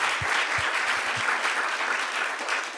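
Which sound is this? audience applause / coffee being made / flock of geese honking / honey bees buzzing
audience applause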